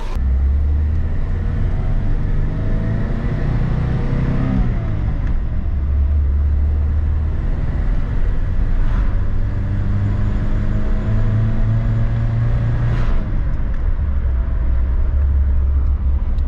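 A Mitsubishi Sigma engine fitted with a Weber 32/36 carburettor idles slightly rich, giving a steady, loud, close rumble that runs continuously with small wavering swells.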